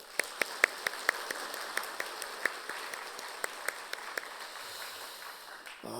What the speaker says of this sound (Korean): 박수를 이렇게 한번 해보겠습니다.